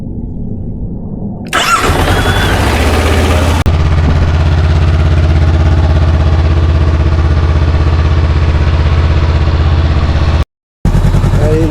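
A small motorcycle engine starts with a sudden loud burst, then settles into a steady, rough idle that runs on close and loud, broken by a brief cut near the end.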